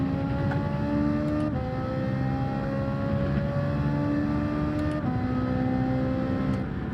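A race car engine at full throttle in Gran Turismo 7, droning loudly and steadily as it climbs through the revs, with the pitch rising then dropping at each quick gear shift, several upshifts in a row.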